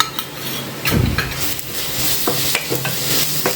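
Ginger garlic paste sizzles among golden-fried onions in a pan for a potato paneer curry while a spoon stirs and scrapes close by, with steady frying hiss and intermittent metallic clinks and scrapes and no talking.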